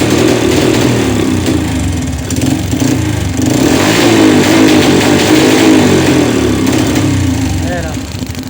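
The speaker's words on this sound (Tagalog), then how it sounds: "Ayun lang yung dahilan kung bakit siya namamatay pag high rev" A small engine revs hard and steadily, loud and close, with the sound faltering as it climbs high. The engine has a fault that makes it lose spark and die at high revs. Voices talk faintly underneath.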